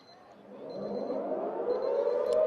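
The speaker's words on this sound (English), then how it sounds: "Siren goes." Siren sounding at a school girls' sports match on a playing field, a rising, swelling tone that grows louder over the short span amid open-air ambience.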